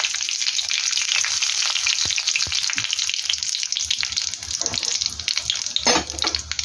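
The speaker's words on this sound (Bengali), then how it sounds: "তো দেখুন এখানে আমি সরষের তেল দিয়েছি, কালো জিরা শুকনো লঙ্কা ফোড়ন দিয়ে দিলাম।" Black cumin and dried chilli tempering in hot mustard oil, a steady bright sizzle and hiss running throughout, close and fairly loud with a few small pops and crackles.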